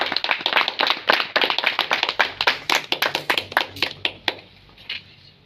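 An audience at a celebration event claps in strong, dense applause that stays loud for several seconds, then thins out into a few scattered claps near the end.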